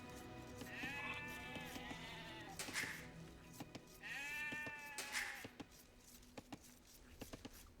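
Two long, wavering sheep bleats in Age of Empires 2 sound a few seconds apart over quiet background clicks, fairly close and clear.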